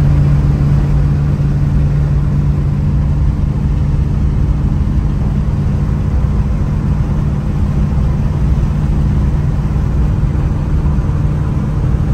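A 1955 Chevy Bel Air hot rod, a long-modified classic V8 car, cruising with a steady, loud engine rumble and drone that holds evenly throughout, with no talk.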